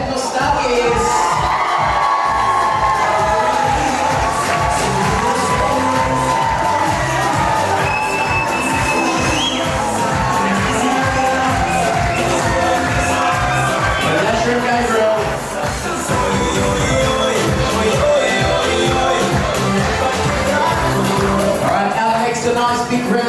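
A wedding crowd cheers and whoops as bridesmaids and groomsmen are brought out, loud and continuous for over twenty seconds, with shouts and babble mixed in and a voice rising over the noise.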